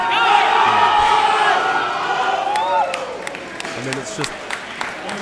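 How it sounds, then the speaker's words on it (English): A crowd at a powerlifting bench press meet claps and cheers loudly right after a lift, the noisy applause filling the first few seconds before tapering, with people talking over it. "hear all the clapping in the crowd"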